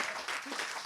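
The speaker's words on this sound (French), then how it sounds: "Bravo, on l'applaudit s'il vous plaît" Short burst of audience applause for a best actor award at the Paris premiere of the film Entre les mots, dense clapping throughout with a brief voice-like murmur partway.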